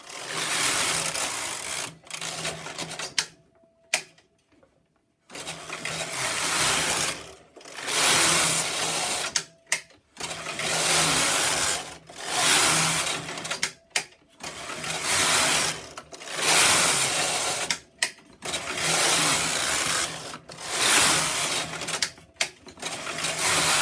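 A double bed knitting machine knits jacquard with a birdseye back, its carriage rasping across the needle beds in repeated passes of about two seconds each, separated by short pauses. The sound is close and steady, with no talking.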